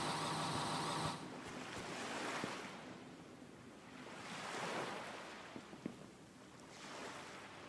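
Ocean waves in the game Eden Crafters wash and roll in slow swells, a faint, breathy surf rising and falling several times with wind-like hiss, heard alone.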